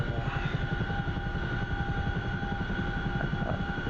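Helicopter rotor in the combat flight game DCS World, a loud, continuous rhythmic thudding with a steady engine whine on top, unbroken throughout; no speech.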